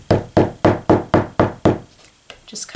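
A hammer or wrench bangs on a lump of non-hardening modeling clay, six evenly spaced dull knocks close up, then a short pause and a couple of softer taps and rustles.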